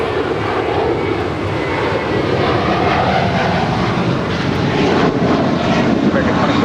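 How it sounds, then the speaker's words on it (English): American Airlines Airbus A321 departing LAX for Orlando, a steady broadband jet engine roar holding loud and constant throughout, with voices talking over it. "That is American 1713 departing to Orlando. It's an A321."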